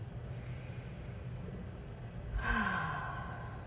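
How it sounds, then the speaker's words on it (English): A single deep breath taken in a quiet room: a soft, faint inhale followed by a louder, breathy sigh-like exhale near the end, close up and alone. "close your eyes, and take 3 deep breaths"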